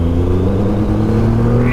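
A Triumph Rocket 3 GT motorcycle engine pulls in third gear from around 2,000 rpm, a deep, steady, loud rumble that builds gently as the bike accelerates on the road.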